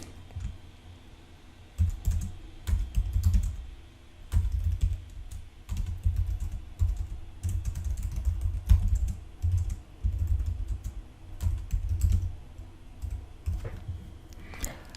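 A computer keyboard clicks as a campaign name and description are typed, with quick bursts of keystrokes separated by short pauses, close and fairly quiet.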